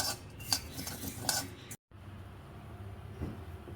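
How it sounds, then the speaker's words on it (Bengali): Vermicelli (semai) frying in ghee in a pan for a Bengali sweet dish, stirred with a utensil, giving soft scraping and light clinks over a low, steady sizzle, with a brief dropout partway through. "এটাকে একটু ঘিয়ের মধ্যে ভেজে নেব"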